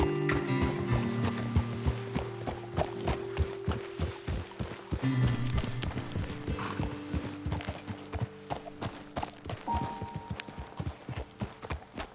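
Horses in the Red Dead Redemption 2 video game clip-clop steadily on hard ground, a rhythmic string of hoof beats near and clear that slows and fades slightly toward the end, with an occasional faint snort.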